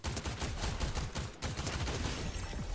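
Rapid video game gunfire, a loud continuous stream of automatic shots in quick overlapping bursts throughout, with no voices.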